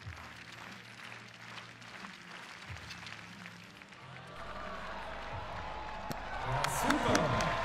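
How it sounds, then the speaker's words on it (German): Stadium crowd at a decathlon meet in Götzis cheers and applauds after a javelin throw, swelling from a murmur to a broad, sustained roar in the second half, with a commentator's voice heard earlier. "Ja, Jubel brandet auf."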